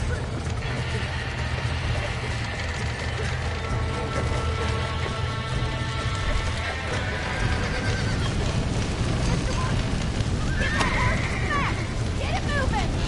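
Horse neighs and hoofbeats in the Red Dead Redemption video game, heard among loud game noise, clatter and shouting voices.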